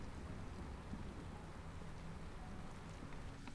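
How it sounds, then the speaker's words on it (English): Steady rain with a low rumble of thunder during a storm in the video game Against the Iron Storm, a faint, even wash of noise throughout with no voices. "Okay, we got through the storm."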